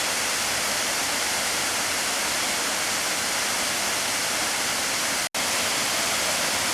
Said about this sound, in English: Madison Creek Falls.